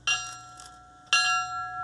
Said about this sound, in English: A somber ringing of the bell.